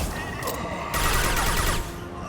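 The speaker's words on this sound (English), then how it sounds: "Taking heavy fire." Sustained gunfire from the Mass Effect 2 video game, a dense burst of shots that swells loud in the middle and eases back, with a voice speaking over the combat noise.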